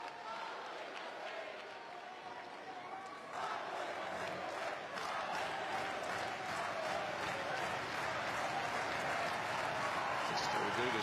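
Large tennis arena crowd at a deciding fifth set, with a steady wash of applause and murmuring that swells louder after a few seconds and stays dense and distant-sounding throughout.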